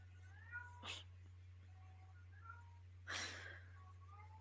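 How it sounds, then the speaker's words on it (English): Faint, drawn-out cat meows come and go over a steady electrical hum, with a couple of soft breathy bursts in between. "I don't know why my cats are meowing though."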